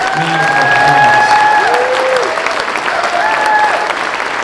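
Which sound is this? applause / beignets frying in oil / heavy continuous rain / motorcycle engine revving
applause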